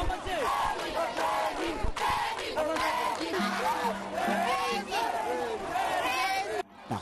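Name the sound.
excited crowd greeting the president in Simbaya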